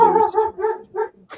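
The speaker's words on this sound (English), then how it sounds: "That's my dog." A dog barks in a few short, close, fairly loud bursts with brief gaps between them, alone in the room and without any talk over it.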